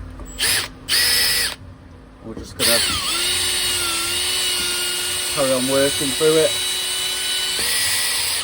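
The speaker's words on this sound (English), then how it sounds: "I've got a little brush in the end of the drill" A power drill whirs steadily with a small cleaning brush spinning on it, scrubbing a BMW M47 diesel engine with degreaser and water, after a few short bursts at the start, while someone talks briefly over it.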